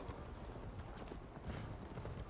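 Horse hooves galloping at a steady clip-clop rhythm in the video game Assassin's Creed Valhalla, continuous and fairly close under a bed of low game ambience.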